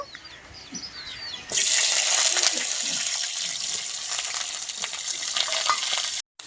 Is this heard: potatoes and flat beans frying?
yes